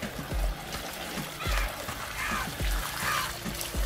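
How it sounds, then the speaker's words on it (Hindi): Water is poured into the tank of an electric crop sprayer for spraying a wheat field, heard as close splashing and gurgling in uneven bursts with low thuds. "तो आप देख सकते हैं अभी इसमें पानी डाल रहे हैं।"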